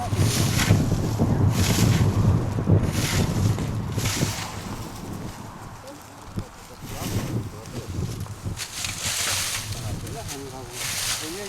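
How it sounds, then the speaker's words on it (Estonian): Strong outdoor wind roars and buffets the microphone steadily, with some water and boat-like rumble underneath, while people talk over it throughout. "Ei lähe, ega see tuul on vastu."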